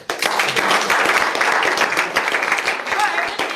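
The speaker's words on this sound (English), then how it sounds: "we can clap for them for sure" A student government senate meeting audience claps for graduating seniors, a loud, busy burst of many hands with voices faintly mixed in, starting abruptly and continuing steadily.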